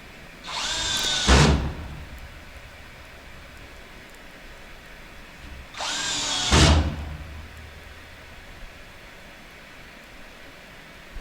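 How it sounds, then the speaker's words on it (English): Power drill driving screws into drywall sheets while hanging a wall, two separate bursts of whirring about four seconds apart, each ending in a low thud as the screw seats, with quiet room between. "I'm just going to show you how screwing in screws and screwing in screws."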